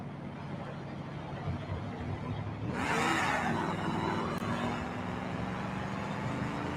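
A custom-built 4x4 Traxxas Marauder RC car accelerates off-road, its electric motor whirring steadily and then rising into a louder, brighter whine partway through before easing back to a continuous drone.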